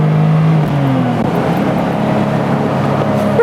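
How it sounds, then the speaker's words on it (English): A BMW E24 M6 engine hums loudly at close range, its pitch climbing briefly as it revs and then settling into a steady drone. There is no speech. "Look at the way this motor revs."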